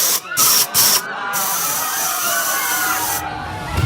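Dangerous chemical spray released into the air inside a bank hisses loudly and steadily for several seconds, with sharp louder bursts at the start.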